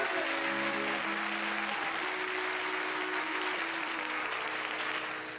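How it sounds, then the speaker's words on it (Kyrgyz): Audience applause after a song performance, a sustained wash of many hands clapping at a live concert. Held musical tones linger faintly beneath it, and the clapping starts to fade near the end. "Баракелде, кол чабуулар сиздерге"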